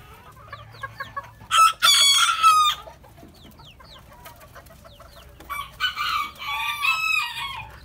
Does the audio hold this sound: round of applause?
no